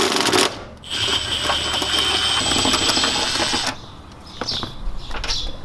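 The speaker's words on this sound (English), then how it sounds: "go ahead and grab a 14 millimeter socket, I believe, and then go ahead and unscrew these" Seat bolts on a Lexus GX470 being unscrewed with a 14 mm socket, a close, steady whirring ratchet-like buzz for about three seconds, then quieter scattered clicks and taps, with no talking.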